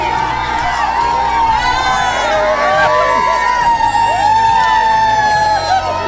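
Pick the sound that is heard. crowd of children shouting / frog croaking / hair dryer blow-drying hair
crowd of children shouting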